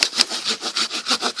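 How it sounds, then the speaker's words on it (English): A saw cuts into a giant tree in steady back-and-forth strokes, about five rasping pulls in quick rhythm, loud and close. "Quit sawing"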